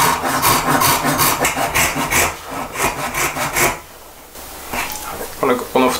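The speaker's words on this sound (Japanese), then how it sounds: "今結構際どいとこまでノコギリが入ってますね" A hand saw cuts through wood for a wooden spoon in steady back-and-forth rasping strokes, loud and close, then slows and pauses before a few lighter strokes resume near the end.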